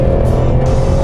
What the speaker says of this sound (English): let's give it the beans and see just how much power this 2-liter turbo really puts out